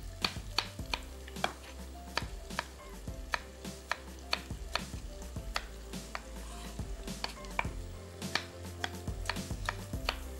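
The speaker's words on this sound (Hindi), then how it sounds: "4 अदद टमाटर, जिसमें से 2 टमाटर हमने यहाँ काट लेना है।" Tomatoes being chopped with a knife on a board in a home kitchen, a steady run of sharp, close knocks at an uneven rhythm, with faint clinks of utensils in the background.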